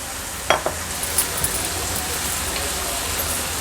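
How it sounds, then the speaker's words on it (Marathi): Potato pieces drop into a pan of peas cooking in green masala, giving a couple of quick clinks followed by steady, soft sizzling and stirring. "मटर ॲड केल्यानंतर ह्या बटाट्याच्या फोडी आहेत त्या ॲड करूया"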